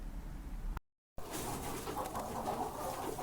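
Lohmann laying hens in a poultry house clucking and calling in a busy, continuous flock chorus, with a short silent gap near the start.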